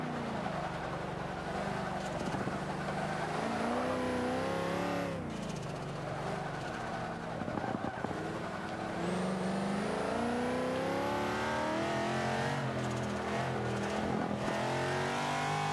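A Corvette Z06 engine in the Forza 5 racing game revs and accelerates through gear changes, a loud continuous roar with rising and falling pitch, steady throughout.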